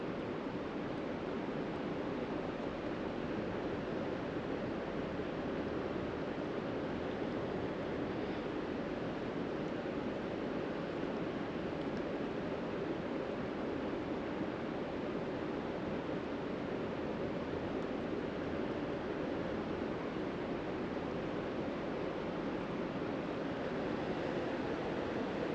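A river flows steadily during a bike outing, a constant broad rush of water close by with no pause or change in level and no one talking.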